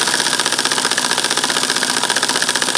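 A small home sand-cast steam engine driving a generator, run at low RPM, gives a rapid, even knocking beat close up, steady and mechanical with no talking.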